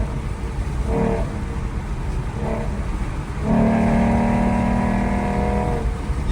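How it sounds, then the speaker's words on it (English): A 2014 Ford Mustang engine idles with a couple of brief blips, then rises into a sustained deep exhaust drone, loud and close. "I said that the exhaust was not as loud or didn't sound as deep, but it sounds pretty good."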